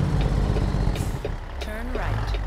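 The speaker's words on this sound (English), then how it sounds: "listen to this truck roaring into town here" A heavy truck in American Truck Simulator rolls into a small town at night, its engine roaring low and continuous with brief hissing and clanking bursts over the rumble.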